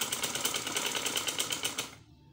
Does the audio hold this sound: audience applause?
no